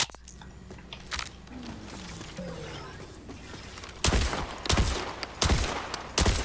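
Several shotgun blasts ring out in the video game Borderlands 4, spaced irregularly after a quieter stretch of ambient game sound, each one a loud sharp report.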